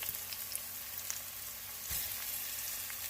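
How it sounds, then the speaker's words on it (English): Peppers sauté in sesame seed oil with a steady, even sizzle and crackle from the pan, close by and uninterrupted, with no talking. "These have been sauteing up for a couple minutes now"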